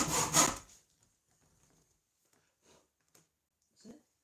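Hand saw cutting wood while building a screwless saw horse: a loud burst of rasping strokes at the start, then a few faint, sparse scrapes and one louder stroke near the end.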